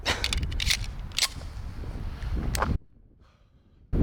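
A Wilson Combat X-TAC Elite Commander 1911 pistol fires .45 rounds at a range target, with several sharp, close reports spaced irregularly over a windy outdoor background before an abrupt near-silence and a final loud shot.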